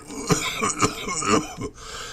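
Several sharp coughs in quick succession, close and fairly loud, with no talking.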